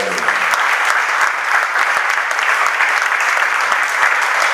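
Sustained applause from a church congregation during a French-language sermon, a steady dense wash of clapping at even loudness throughout with no speech over it.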